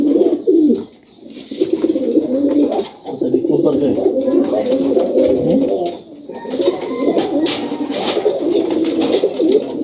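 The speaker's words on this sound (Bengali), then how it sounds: "আমি আপনাদেরকে আরও কিছু চমৎকার কবুতর দেখাই" Pigeons coo steadily and close by in a Rajshahi high-flyer loft, a dense layered murmur of many birds with brief lulls, and a person speaks now and then over them.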